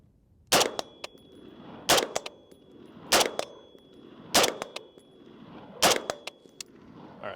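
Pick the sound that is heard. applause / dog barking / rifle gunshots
rifle gunshots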